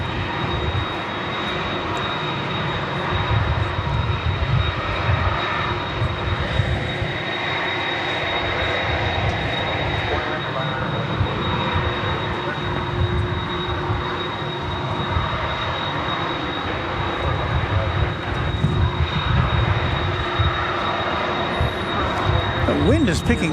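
An airliner with a distinctive tail taking off at DFW Airport: a loud, unbroken engine roar with a faint steady whine, sustained throughout, and wind noise mixed in.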